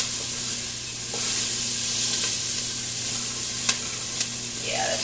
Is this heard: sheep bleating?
no